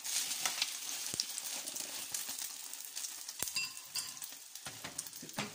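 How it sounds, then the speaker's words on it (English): French toast slices frying in a pan, a steady bright sizzle with crackling pops and a few small clicks throughout, close and continuous with no talking. "I'll put my other slice and I'll cook 2 slices as I go."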